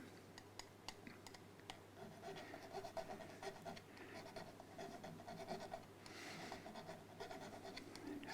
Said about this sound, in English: possible to round off these frets so that they're softer